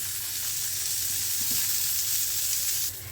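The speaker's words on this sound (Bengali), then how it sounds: "ফুল ফ্লেমে আমরা উচ্ছেটাকে ভাজবো।" Bitter gourd fries on a high flame, a loud, dense, steady sizzle and hiss filling the clip without any talk.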